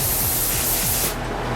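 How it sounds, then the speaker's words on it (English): An Iwata LPH 80 spray gun at about 22–25 pressure sprays Cerakote coating in a loud, continuous hiss that cuts off sharply near the end, leaving a softer airy rush. "I will be using the Iwata LPH 80 from Cerakote, and I'm running about 25 spraying pressure"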